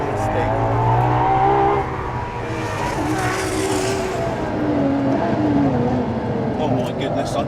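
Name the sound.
LaFerrari 950 bhp mid-engine Ferrari driven hard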